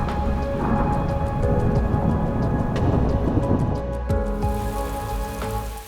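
Steady rain falls on race day for a women's 5 km road race in Addis Ababa, a dense continuous hiss with low rumbling underneath that eases slightly near the end; no voices.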